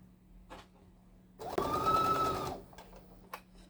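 Sewing machine running a single steady burst of stitching along a rolled fabric hem for a headcovering, close and fairly loud, with quieter handling noises before and after.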